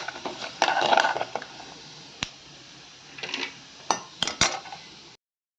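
Fried coconut, browned in oil, set out onto a plate with clinks and scrapes of a utensil against the dish, arriving in short separate bursts with pauses between.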